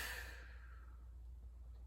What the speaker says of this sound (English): exhale out your mouth on the way back up